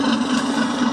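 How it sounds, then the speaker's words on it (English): A brushless motor on a 5-inch narrow gauge maintenance train gives off a steady, bassy, engine-like hum, close and continuous. "you do get a nice rumble from the motor"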